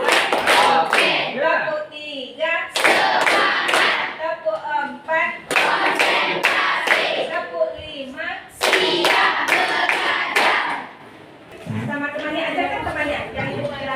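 Students in a classroom clap in rhythmic bursts as an icebreaker, sharp group claps in sequences broken by short pauses, with a teacher speaking between the rounds.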